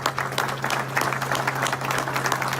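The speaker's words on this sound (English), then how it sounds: "We give them a round of applause." Steady applause from the audience at a county breakfast event, a moderately loud, even wash of many hands clapping over a low hum, with no pause in its short span.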